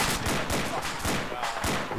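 Machine gun fire from the game Insurgency rattles in rapid, dense bursts of sharp shots, one volley rolling into the next across the whole stretch, heard at a moderate level during a night battle.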